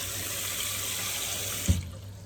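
Water runs steadily from a tap into a pot for boiling eggs, a continuous hissing splash that cuts off abruptly with a thud near the end.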